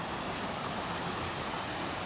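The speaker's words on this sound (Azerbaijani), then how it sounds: "Şəlalə deyil, yuxarıdadır. Şəlalənin bura alt hissəsidir." Steady, dense rush of water at the lower part of a mountain waterfall among rocks, a continuous broadband roar with no pauses or voices.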